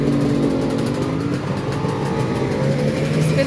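A loud car engine revs steadily on a street during an evening outing in England, a deep, continuous roar that stays strong and close throughout, with no voices over it.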